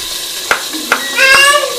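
Chilies, tomato and onion fry in a pan, a steady hiss of sizzling and splattering with a few sharp pops, rising louder near the end where a thin high tone also sounds briefly.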